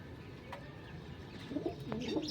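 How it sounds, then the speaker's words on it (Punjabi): Pigeons perched on a rooftop coo softly in low, rolling calls, with a few faint chirps over a steady outdoor background and no talk. "ਇਹ ਬੈਠੇ ਕਬੂਤਰ ਸਾਰੇ ਪੂਰੇ ਤੰਦਰੁਸਤ ਹੈ"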